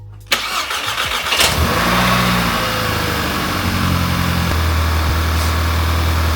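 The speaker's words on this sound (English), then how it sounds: "then I'm going to turn the car on" An Audi A3 8P engine cranks and fires up close by, then settles into a steady idle hum that keeps running loud and even, with no voices.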